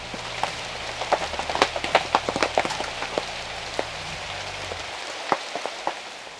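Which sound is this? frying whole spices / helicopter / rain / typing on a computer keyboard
rain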